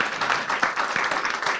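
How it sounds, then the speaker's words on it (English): Audience claps at a book launch event in Singapore, a brief, fairly close burst of applause with individual claps audible through the steady patter. "Again, big round of applause,"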